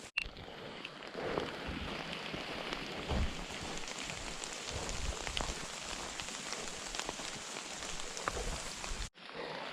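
Rain patters steadily on a forest trail during a fall backpacking hike in the Boundary Waters, with dense drops tapping nearby surfaces and a few heavier splats, no talking.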